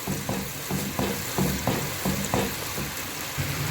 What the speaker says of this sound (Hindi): ginger and garlic paste add कर देनी है और वो ऐड करने के बाद भी इसको ऐसे फ्राई कर लेंगे